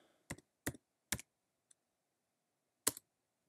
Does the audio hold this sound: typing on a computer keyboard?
yes